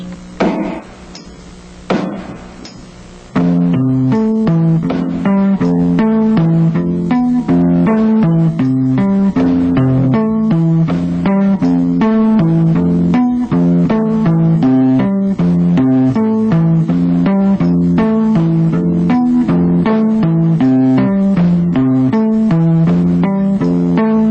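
A bass guitar plays a steady repeating riff of plucked notes in a low register, loud and close, running continuously after a few brief opening notes.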